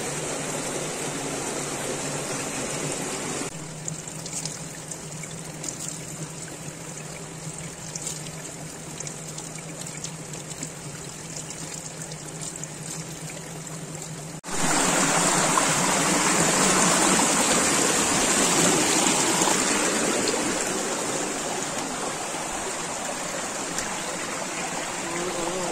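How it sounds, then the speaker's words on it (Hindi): Cold mountain spring water flowing out from the hillside in rural Uttarakhand, a steady close trickling stream that swells louder and fuller partway through, with no voices. "ये है पहाड़ों के अंदर पानी निकलता है, और बहुत ठंडा होता पानी ये"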